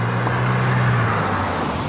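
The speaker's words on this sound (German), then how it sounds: "man die Autos nicht hört, wenn man vorbeifährt." Cars passing on a nearby road give a steady traffic rumble with a low engine drone that fades partway through, with no talking.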